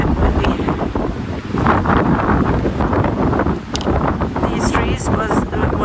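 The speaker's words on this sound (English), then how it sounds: "it's a bit windy." Strong wind buffets the microphone with a steady loud roar and gusts throughout, while hammock camping among trees in snow near Mosjøen.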